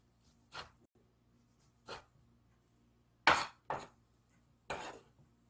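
A knife cuts through dried zucchini strips on a cutting board in five separate, sharp chops spaced out over a few seconds, with quiet pauses between them.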